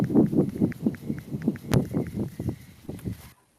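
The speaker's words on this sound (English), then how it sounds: "we can also recognize when the bat is flying because it sounds like this" A bat in flight captured by an on-body tag audio recorder, giving a steady series of soft, rhythmic low thumps like wingbeats, close and fairly loud, ending abruptly.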